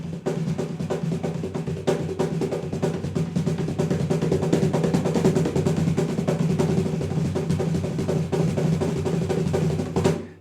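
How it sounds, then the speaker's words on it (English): A cajon struck with a rapid hand-and-finger triplet roll, two strokes in the left hand and one in the right, a steady dense patter of close woody slaps running continuously throughout. "So I'll play the 2 in my left and the 1 in my right, and that sounds like this."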